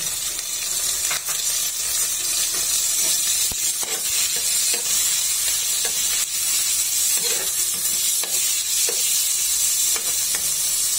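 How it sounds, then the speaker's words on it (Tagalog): Ground meat sizzles steadily in hot oil with sautéed onion and garlic in a pan, with intermittent stirring scrapes and clicks over a continuous close-up hiss. "sa mainit na mantika ay aking ginisang sibuyas at bawang"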